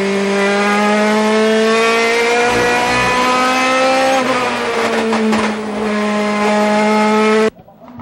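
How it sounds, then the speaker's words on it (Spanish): DTM touring race car at the 2011 Austria round, a loud close engine note rising steadily through the revs before a brief shift dip, then cut off abruptly near the end. "Bruno Spengler, que viene acelerando con los dos pies"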